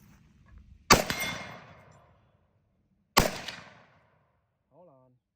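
Two loud Zastava M77 rifle shots ring out about two seconds apart outdoors, each a sharp crack with a trailing echo, followed by a brief voice.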